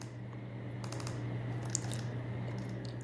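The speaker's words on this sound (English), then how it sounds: "I'm going to type in the symbol AMD" Computer keyboard typing in a quiet room at a desk, faint scattered keystrokes in short clusters over a steady low electrical hum, no talking.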